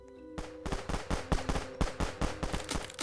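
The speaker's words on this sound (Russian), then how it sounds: "Мы своими пушками нормально стреляем." Rapid cannon fire in a tower defense video game, with sharp loud shots in an irregular, fast rhythm over a steady musical drone.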